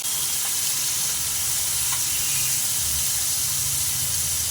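Tomatoes sprinkled with salt sauté in an oiled pan for a Bengali oil-cooked koi fish dish, giving a steady, close, even sizzle and hiss that runs throughout with no talking.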